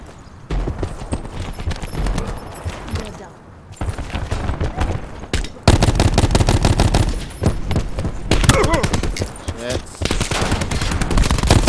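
Rapid bursts of video game gunfire crackle in long rattling runs over steady game sounds, loud and close, with a short lull before the firing resumes and continues to the end.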